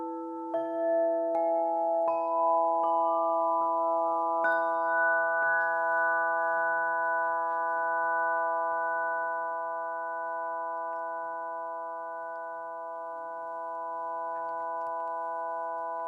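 Sound tubes play notes of the overtone scale: sustained resonant tones enter one after another, stacking into a ringing chord that rises step by step, then holds and slowly fades, with no talking.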